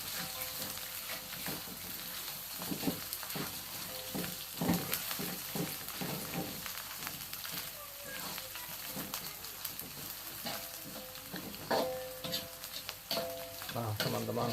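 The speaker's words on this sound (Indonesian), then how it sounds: "tumis sampai agak layu" Bay leaves, lime leaves and lemongrass sautéing in hot oil, a steady close sizzle with occasional stirring scrapes and clinks.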